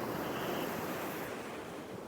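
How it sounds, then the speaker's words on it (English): Ocean surf breaks continuously on a Southern California beach, a steady broadband roar of waves washing in and out, close and loud with a little wind noise, no voices. "still coming through some good surf here"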